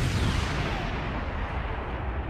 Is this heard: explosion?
yes